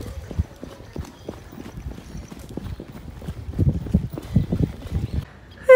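Horses trotting through the streets of the village of San Jose Manialtepec near Puerto Escondido, Mexico, hooves clip-clopping in a steady, uneven rhythm that grows louder and closer toward the end, with no talking.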